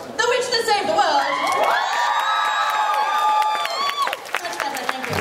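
A crowd cheers and whoops loudly with applause, a sustained swell of many voices that fades slightly toward the end.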